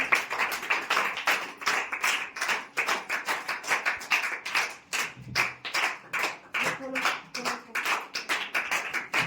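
Rhythmic, fairly close clapping from a group at a farewell and inauguration function, with a steady, slightly uneven beat running continuously throughout.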